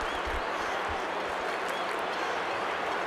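Stadium crowd in Brasília reacting during a Brazil versus Australia football friendly, a dense, loud roar of cheering and applause sustained evenly throughout with some low thumps early on.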